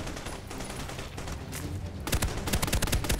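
Rapid bursts of gunfire from the Army of Two: The Devil's Cartel video game, with dense game noise in the first two seconds before loud, close, closely spaced shots crack in quick succession.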